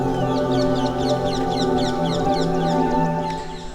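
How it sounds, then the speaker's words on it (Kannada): Birds at Ranganathittu bird sanctuary in Mandya, Karnataka call continuously, a busy chorus of repeated chirps and squawks heard from near the entrance, fairly loud and steady over a low background hum. "ಇಲ್ಲಿಂದಲೇ ಪಕ್ಷಿಗಳ ಶಬ್ದ ಎಲ್ಲ ಕೇಳ್ತಾ ಉಂಟು"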